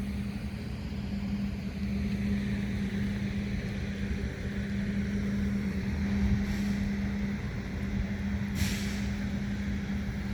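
A supercharged GM Performance LSA V8 sits in a 1963 Lincoln Continental on air ride, idling as a steady low rumble with a constant hum. Faint hiss and wind noise lie over the engine, and no one speaks.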